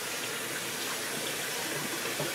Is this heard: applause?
no